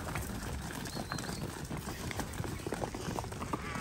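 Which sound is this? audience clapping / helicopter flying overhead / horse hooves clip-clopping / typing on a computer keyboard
horse hooves clip-clopping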